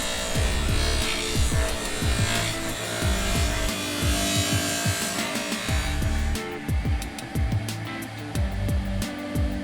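A bench grinder whirs steadily as vinyl plank flooring is pressed against the wheel, with repeated short grinding strokes rasping over the motor hum, close and loud, no voices.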